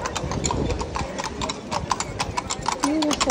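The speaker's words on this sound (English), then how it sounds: "Beautiful horses." Horse hooves clip-clopping on pavement in Salzburg in a steady rhythm, fairly close, with a brief whinny-like tone near the end amid background street noise.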